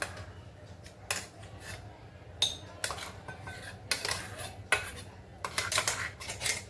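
A spoon scrapes coarsely ground, dry chickpea paste for chole tikki out of a mixer jar into a bowl, giving repeated sharp metallic scrapes and clinks at close range in a home kitchen, with no talking.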